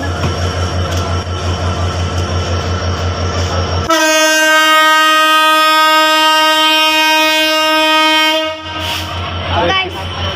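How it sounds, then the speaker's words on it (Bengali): A Nilsagar Express passenger train leaving a station on the Dhaka to Chilahati route gives a long, loud, steady horn blast at close range over rumbling wheels and engine noise, which carry on after the horn ends. "ট্রেন ছেড়ে গেল।"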